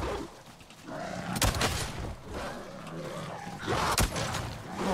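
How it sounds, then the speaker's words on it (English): A shotgun fires in the video game Avatar: Frontiers of Pandora: two loud, sharp blasts about two and a half seconds apart, over a busy bed of jungle and creature noise. "Oh, I love the shotgun, mate."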